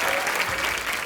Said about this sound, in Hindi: अर्जुन रामपाल और विद्या बालन के लिए जोरदार तालियां।